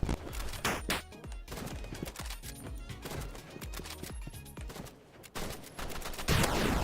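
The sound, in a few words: sniper rifle gunfire in the Roblox Rivals video game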